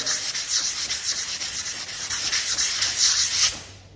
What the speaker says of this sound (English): So I'm going to give the rest of this just a really light sand